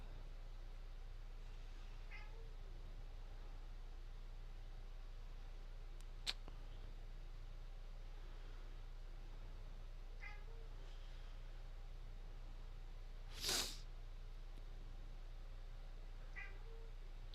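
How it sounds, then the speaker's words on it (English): A cat meowing indoors, faint and somewhat distant, a few brief calls spaced across a steady background hum, with one louder meow standing out near the end. "Do y'all hear this cat right now?"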